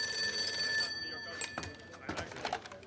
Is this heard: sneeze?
no